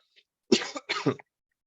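Someone recovering from a cold clears their throat with two rough, hacking coughs in quick succession, close and fairly loud against silence.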